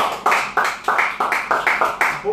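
A small group claps in a brief round of about eight distinct bursts, close and loud, each one sharp at onset and then fading quickly.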